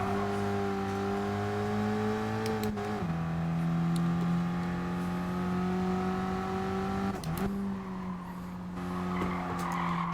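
A race car engine drones steadily at high revs in the racing game Gran Turismo Sport, with two brief gear-shift dips and faint tire noise, loud and continuous throughout.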